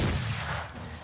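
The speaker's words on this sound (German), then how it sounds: "Ein gezielter Schuss." A single muffled gunshot from the game Mordheim: City of the Damned, a short punchy blast with a brief decaying tail.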